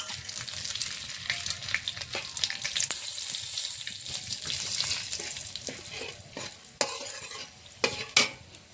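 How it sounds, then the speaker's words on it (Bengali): Steady hiss of bay leaf, dried red chillies and whole cumin frying in hot mustard oil, with occasional sharp crackles and stirring clinks growing louder toward the end; no talking. "সর্ষের তেল ফোড়নে দেবো তেজপাতা শুকনো লঙ্কা গোটা জিরে"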